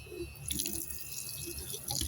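Strong tap water gushes into a sink while a squishy toy is washed, a steady close rushing splash with a few irregular drips and surges, no talking.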